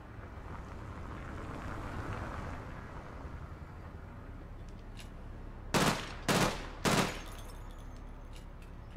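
Three sharp, loud bursts of gunfire in the game APB Reloaded, evenly spaced over a steady windy, engine-like background rumble.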